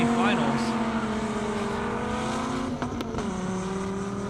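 A yellow Corvette C6 and a Z06 race car making a high-speed pass on an airstrip half-mile course, engines droning loudly and steadily with a pitch shift as they go by, under an announcer's commentary.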